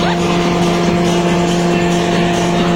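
An Enterprise amusement park ride running at a birthday outing, a loud, steady mechanical whir with a constant droning hum like a spinning motor, close by and unbroken.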